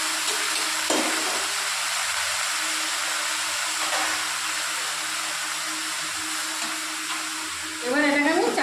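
Potatoes and chopped pumpkin greens sizzle steadily in a hot pan, a constant close hiss with occasional stirring scrapes and a louder burst of crackling near the end.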